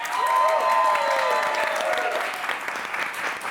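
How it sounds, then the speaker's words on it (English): Audience applause at a level 1 class showcase, a dense, steady clapping from a crowd that holds loud for a few seconds before easing slightly. "Let's hear it from Meera as she goes to sit"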